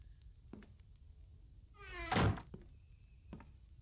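Zombies knock against doors in the survival game The Infected: one heavy, loud thud in the middle, with a few faint clicks and taps around it.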